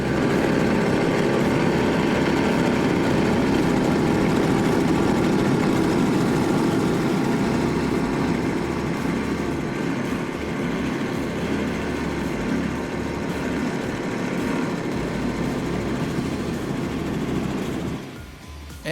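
A 2012 Nortec 34 Sport powerboat with twin Mercury 300-horsepower Verado outboards roars steadily with a deep low rumble, loud and close, easing off slightly near the end.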